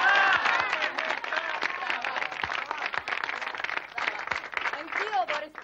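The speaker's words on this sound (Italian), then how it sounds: "Un applauso." An audience claps for a theatre director at a school film-set scene, a dense, fairly loud burst of many hands that runs for several seconds with voices and cheering mixed through it.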